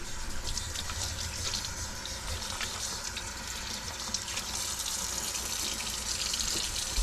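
Water runs steadily into a container for holding cleaned, boneless pike fillets, a continuous broadband rush with no break, close and moderately loud, no voices.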